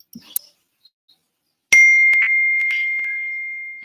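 A phone text-message notification rings out as a single clear, sustained ding that slowly fades, preceded by a few faint taps in an otherwise quiet room.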